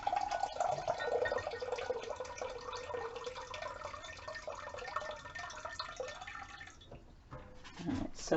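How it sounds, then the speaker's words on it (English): Filtered water pours steadily into a measuring cup in a home kitchen, a continuous close splashing with a slowly rising filling tone, then a few brief drips and clinks as the flow stops. "I'm going to use some filtered water, so we're going to get a couple cups here."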